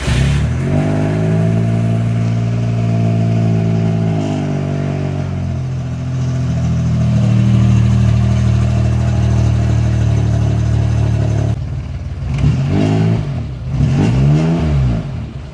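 A Suzuki Mighty Boy engine cranks, starts and settles into a steady idle, then is revved in several rising and falling bursts, loud and close throughout with no talk over it.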